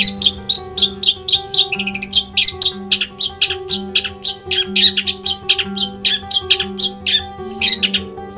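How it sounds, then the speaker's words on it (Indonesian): A long-tailed shrike (cendet) songbird sings loudly and close, with rapid repeated sharp chirps and trills in a steady rhythm over a faint low tonal background. "burung cendet kalian tuh ngotot, gacor, menekan"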